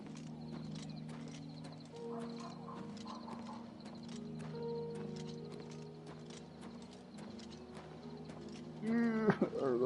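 Horse hooves clip-clopping in the video game Oblivion Remastered, a quick regular patter of hoofbeats under game music tones, ending in a loud whinny and snort near the close.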